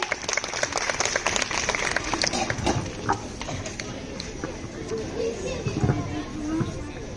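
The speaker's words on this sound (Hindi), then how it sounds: "आइए हम जोरदार तालियां बजाएं उनके लिए" A school audience at a Teacher's Day celebration claps for a 7th class drama, with loose, uneven clapping mixed with children's chatter and voices throughout.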